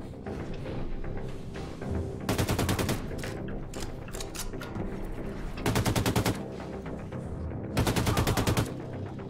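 Enemy gunfire in the shooter game Wolfenstein 2: The New Colossus, with loud rapid automatic bursts coming in several separate volleys over a steady background of game sound.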